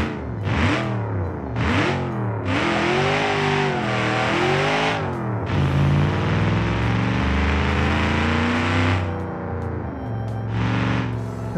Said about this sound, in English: Alright, with a racing I think carbureted, carbureted DCOE V8 engine.